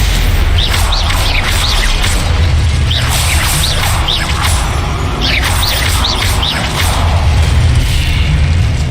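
Blasting-spell explosions and magical whooshes in Hogwarts Legacy combat, loud booming bursts layered over a constant roaring background with sweeping high swishes recurring across the scene.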